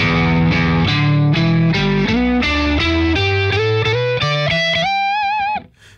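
An electric guitar through a BOSS OC-5 octave pedal plays a climbing run of notes doubled an octave lower, thick and distorted, ending in a sustained bend.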